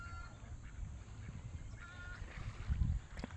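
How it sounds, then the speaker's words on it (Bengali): Ducks on village water on a winter morning give faint, intermittent quacks and honks close by, over a low rumbling background, with a louder burst near the end. "এই যে হাঁসগুলো কাছে চলে আসছে"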